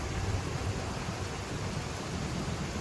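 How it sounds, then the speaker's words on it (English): Steady rain pours down during a thunder and lightning storm at a campsite, a dense continuous hiss with a low rumbling underlayer, loud and unbroken throughout with no distinct thunderclap standing out. "as you can hear, we have another thunder and lightning storm going through."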